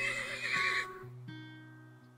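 A horse in the video game Turnmoil gives a single clear, high whinny that trembles and fades over about a second, close and alone, followed by a low lingering game tone.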